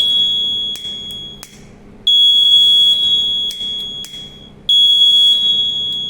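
A DIY fire-detecting robot's buzzer, set off when a lighter flame reaches its sensor, sounds loud, close piercing electronic beeps in long bursts separated by short gaps.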